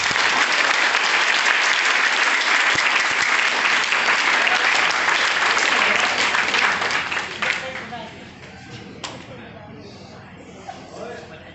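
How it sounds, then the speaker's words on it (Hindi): Loud, dense applause from a crowd at a health awareness program, a continuous wash of clapping that fades out over the last few seconds into a near-quiet room. "तो एक बार सेहत के लिए अपनी अपनी सेहत की जोरदार और शानदार तालियां।"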